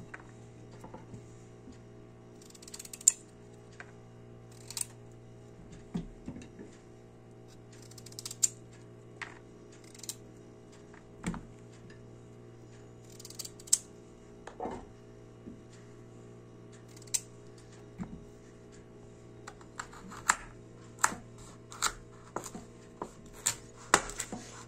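A knife chops washed carrots into small pieces for carrot juice, sparse sharp taps on a board spaced irregularly over a steady low hum, close and fairly quiet.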